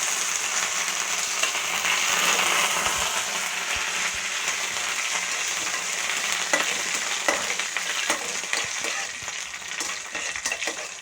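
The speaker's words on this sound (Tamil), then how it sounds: "இது நல்லா பொரிஞ்சு வரட்டும். இப்போ இதோட நான் கருவேப்பிலையை ஆட் பண்ணிக்கிறேன்." Curry leaves fry in hot oil with urad dal for masala sundal, a steady close crackling sizzle with occasional sharper pops and spoon stirs.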